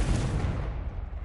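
Confringo explosive spell cast in the video game Hogwarts Legacy, a single deep booming blast with a rumbling low-end tail that fades over about a second.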